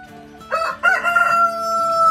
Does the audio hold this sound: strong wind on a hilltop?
no